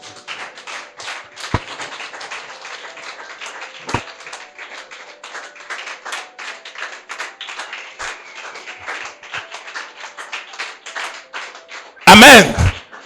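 A church congregation claps in a loose, steady rhythm of close taps under a speaking voice, ending with a short, loud burst of voices lifted in acclaim.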